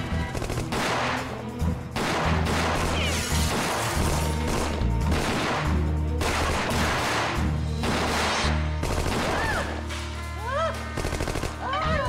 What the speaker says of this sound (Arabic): في تبادل اطلاق نار جوه يا فندم، انتظار اوامر سيادتك